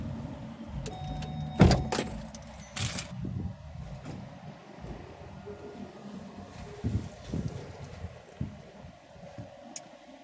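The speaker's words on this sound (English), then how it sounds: "Turn off the car, please." A car engine idles steadily at low pitch across the whole stretch, with a few sharp clicks and knocks near the start and scattered small handling noises on top, no talking.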